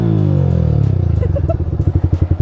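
A Yamaha R15 M motorcycle fitted with an aftermarket exhaust revs up loud and close, then drops into a rapid, popping idle-like burble with a clear rhythmic pulse.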